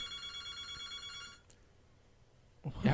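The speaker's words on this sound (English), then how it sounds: "I know the nerve of this phone in here. You think it'd stop ringing?" An indoor telephone rings in a steady repeating electronic trill for about a second and a half, then falls silent before a brief loud clatter at the end.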